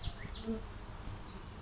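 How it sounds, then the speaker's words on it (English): Honey bees, including a drone, hum steadily around an open beehive frame during an inspection, a faint close buzzing with a few rising and falling whines as individual bees pass. "We've got a drone bee up here, the male bee, just working his way through the hive."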